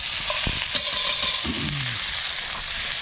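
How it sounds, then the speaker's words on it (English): Beef and onions sizzle and fry steadily on an outdoor barbecue plate by the Murray River, with a stirring scrape or two, close and continuous with no talk. "Beef on the barbie."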